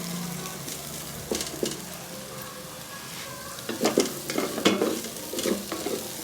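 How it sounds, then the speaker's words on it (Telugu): Raw banana pieces fry in oil, a soft continuous sizzle with bursts of stirring and spatula scraping against the pan, moderately close and without talk. "ఆయిల్ అరటికాయ వేపుతున్నాను."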